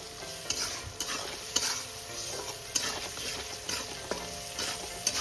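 Tomato frying in oil in a pan until soft, for a spicy tilapia curry: a steady bright sizzle with scraping stirs and sharp utensil clicks on the pan about once a second, close and without talk.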